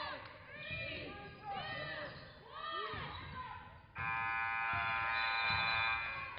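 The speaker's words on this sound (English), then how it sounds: "And Hahn has her shot blocked at the buzzer." A steady electronic buzzer blares over squeaking shoes and echoing gym noise at a girls' varsity high school basketball game, following a stretch of busy play on a hard court.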